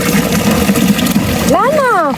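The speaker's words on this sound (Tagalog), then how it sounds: "Ayan, basta may water pump ka." Engine-driven water pump drawing water from a river, a loud, close, steady mechanical drone that runs for most of the moment before a voice cuts across it near the end.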